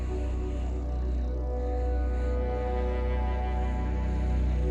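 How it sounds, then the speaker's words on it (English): A radio telescope picks up hydrogen gas from the Milky Way and renders it as a steady, low droning hiss with a layered, buzzing hum, unchanging and alone. "And what you're listening to is hydrogen gas."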